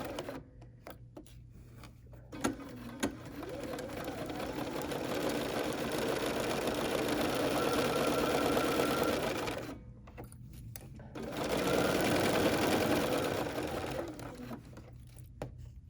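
A Bernina sewing machine stitches in long bursts, its motor whirring and needle chattering steadily, pausing briefly and then running on again, with a few short taps at the start.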